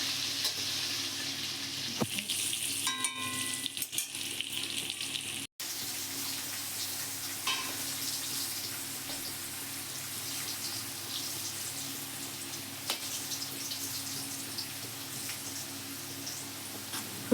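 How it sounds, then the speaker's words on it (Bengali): Potatoes with turmeric frying in oil while being stirred in a pan: a steady close sizzle runs throughout, with scraping stir strokes and a brief clatter early on; no voices. "তো এই যে আলুগুলো এখন ভাজা হয়ে গেছে, এবার তুলে নেবে এক এক করে।"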